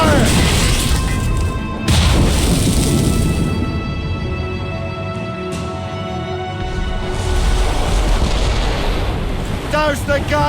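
Ship cannons fire during naval combat in Assassin's Creed Rogue, a loud, continuous barrage of booms and crashing blasts with shouting crew voices mixed in.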